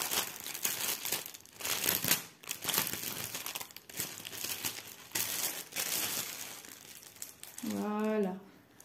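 A fabric diamond painting pouch is handled and unzipped close by, with steady crinkling and rustling of packaging, ending in a short zipper rasp.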